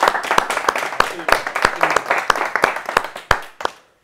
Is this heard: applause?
yes